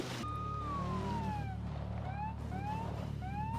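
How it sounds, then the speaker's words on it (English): A police car siren from the Forza racing video game wails in rising and falling sweeps over a steady low engine drone, fairly loud and continuous. "Yes, because it's got the siren."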